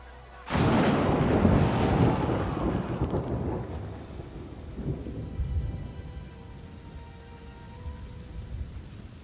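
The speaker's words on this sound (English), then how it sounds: "The villager is interrupted by a deafening clap of thunder, and a bolt of lightning cracks down and scorches the huge tree" A sudden, loud thunderclap bursts in and rolls away under steady heavy rain in the fantasy role-playing game Pathfinder: Kingmaker, the rumble fading over several seconds while the downpour continues alone.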